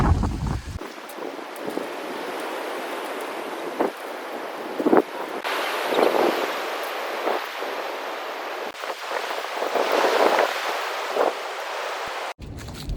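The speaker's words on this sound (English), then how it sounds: "Pretty windy, man." Wind gusts across a hunting stand high on a sturdy ladder in a Pennsylvania nature reserve, a rushing roar that rises and falls in waves with brief rustling knocks, no voices.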